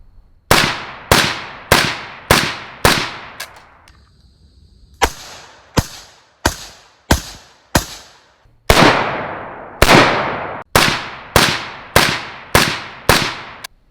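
An AK-74 rifle fired without a suppressor, about twenty loud, sharp shots in quick strings separated by short pauses, each crack ringing out briefly outdoors.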